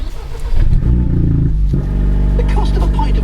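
Renault Megane RS 300 Trophy engine cranks and fires into a loud, close idle after a brief starter whir, settling into a steady low rumble that holds to the end.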